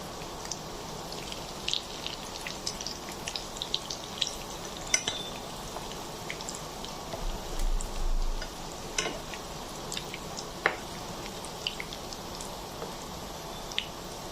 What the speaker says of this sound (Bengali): এবার আমি একটা একটা করে ফিশ ফিঙ্গারগুলো দিয়ে দিচ্ছি।